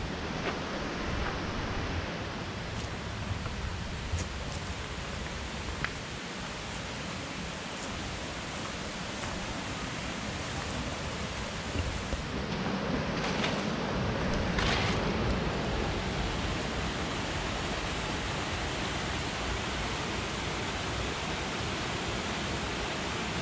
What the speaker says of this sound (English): The power of this water rushing through here